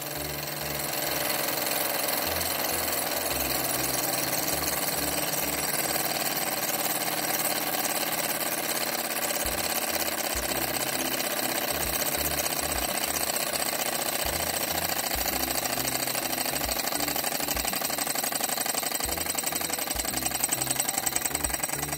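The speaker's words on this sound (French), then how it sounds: "Je vais retirer ici le chauffage et on va voir que le moteur s'arrête" A small Stirling engine chugs with a rapid, regular mechanical rhythm that briefly falters and changes pace as its heat source is taken away, steady and fairly quiet up close.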